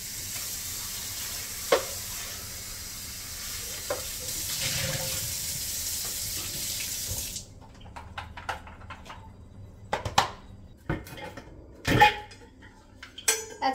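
A water bottle being washed and cleaned out, with a steady rush of running water for several seconds that stops, followed by irregular knocks, clinks and rattles of the bottle being handled nearby, with no talking.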